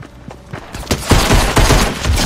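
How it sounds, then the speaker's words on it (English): Pistol shots in Fortnite fire in a rapid, loud burst of cracks that grows denser and more sustained, up close with no talk. "Here we go, pistol time. Which is not gonna fare well against a shotgun"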